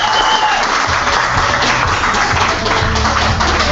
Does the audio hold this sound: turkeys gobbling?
no